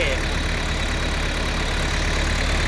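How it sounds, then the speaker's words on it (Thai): A car engine runs and is revved while the vehicle shakes, producing a steady, loud rumble that stays fairly even throughout, with someone talking over it. "รถมันสั่นนะครับ นี่ต้องดูตอนเร่งเครื่องนะครับ"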